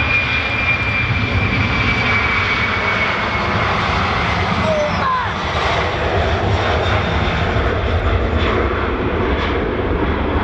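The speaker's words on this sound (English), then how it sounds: "Where's that plane going?" A Virgin Boeing 747 jet at Manchester produces a loud, steady engine roar that fills the whole stretch, with a faint rising whine and soft voices barely audible beneath it.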